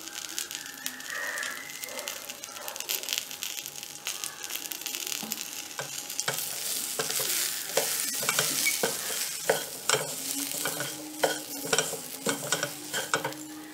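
Sundal fries in oil in a pan as masala is stirred in, making a continuous sizzle with repeated scraping spoon strokes that grow louder and more rhythmic partway through.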